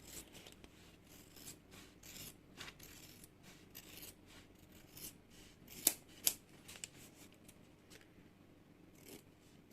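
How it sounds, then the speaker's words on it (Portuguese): Scissors snip close along the seams of a handmade bag, trimming leftover thread in a run of short, crisp cuts with soft rubbing of fabric in between and a couple of sharper clicks. "Ó, tá vendo que eu não tô cortando a linha, mas eu tô cortando bem rente"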